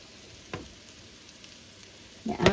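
Southern fried fish cakes sizzle in a curved pan, making a steady soft hiss with a couple of louder crackling bursts, heard close up without talk.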